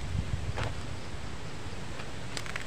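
Strong wind roaring steadily against the microphone, a dense constant rush with brief gusty flutters, no voices.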